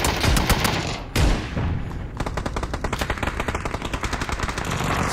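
Gunfire in a PUBG firefight, loud bursts of shots: a couple of heavy booming rounds followed by a rapid, sustained automatic rattle of fire.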